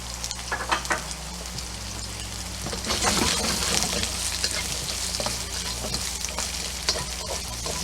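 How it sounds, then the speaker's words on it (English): Close, steady sizzling of carrots stir-frying in oil with scraping and clattering stir strokes, a louder burst midway, no talking. "Start stir frying the carrots."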